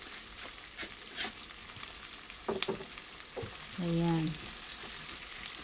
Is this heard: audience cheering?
no